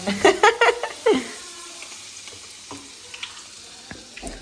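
Oil sizzles and crackles steadily as snack pieces are dropped in to fry, with a burst of clattering and splashy bubbling at the start, then a continuous frying hiss.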